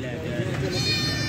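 Goats bleat at a Faisalabad goat market among Beetal goats, a few bleats rising over steady crowd chatter and nearby talk.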